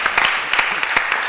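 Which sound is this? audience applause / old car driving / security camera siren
audience applause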